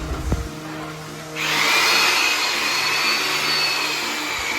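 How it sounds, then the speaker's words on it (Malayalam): An electric putty mixing machine starts up after a brief knock and runs at a steady loud whir, churning tile adhesive for fixing to the back of a tile. "അപ്പോൾ നമ്മൾ പുട്ടി മെഷീൻ ഉപയോഗിച്ച് നല്ല രീതിയിൽ ഗമ്മ് മിക്സ് ചെയ്തിട്ട്"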